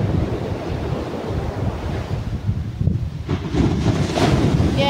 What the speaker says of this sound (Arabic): هي الامواج ترحب بي، امواج كترحب بيا دائما كيف ما نجي البحر كترحب بيا الامواج